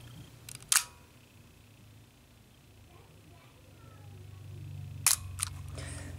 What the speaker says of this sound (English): this thing's electronically controlled shutter can stay open for up to 4 seconds